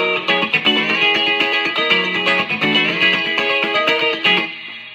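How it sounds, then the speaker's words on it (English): Clean electric guitar tone through a Fender amplifier, a busy strummed and picked passage of bright chords played steadily for several seconds, fairly loud and close with no talking. "my standard issue clean sound through the Fender."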